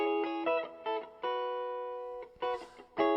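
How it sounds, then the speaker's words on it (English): A Gibson 335 electric guitar played through a Fender Deluxe Reverb amp, clean ringing chords and notes in a choppy rhythmic pattern with short stabs and one long sustained chord, alone with no talking. "He's playing a 335 through a deluxe reverb,"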